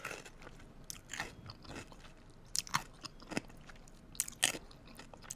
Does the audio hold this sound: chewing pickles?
yes